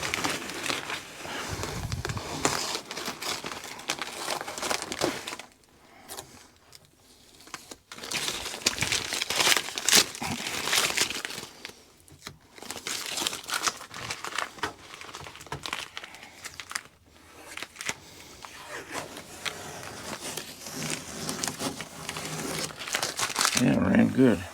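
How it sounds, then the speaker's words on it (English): Protective moisture tape being peeled and crinkled off around a Fisher & Paykel dishwasher installed in an RV, with close, loud tearing and crumpling bursts broken by short pauses and talk. "I'm going to take tape off and see what it looks like."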